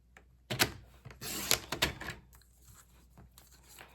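A paper trimmer is handled and cuts scrapbook paper, with a few sharp slicing rasps and rustles followed by light clicks and taps, close and moderately loud, with no speech.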